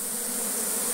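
A honeybee swarm at a new apiary buzzes as a dense, continuous close drone that fills the whole moment without pause.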